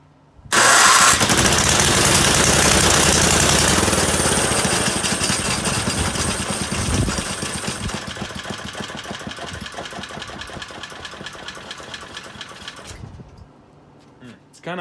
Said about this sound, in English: now I'm going to test to see if it will run